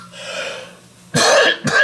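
A man coughs twice in quick succession, close and loud, after a brief stretch of audible breathing and throat sounds.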